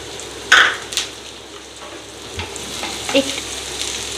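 Chopped garlic and green chili sizzle in hot oil in a pan for a Chinese-style mixed vegetable dish, a steady crackling hiss with sharper bursts near the start as the pieces hit the oil.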